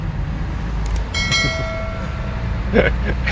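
A small refuse truck, pedalled in pursuit on an Italian street, sounds its horn in a few short beeps and one longer tone over a steady low rumble of traffic and road noise.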